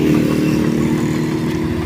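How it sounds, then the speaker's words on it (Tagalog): A Honda Click scooter engine idles fast and steady right after starting, a close, even mechanical drone with a light clatter and no talking. "sa unang 3 o lim hanggang 5 segundo, mabilis yung menor niyan, mabilis yung tunog"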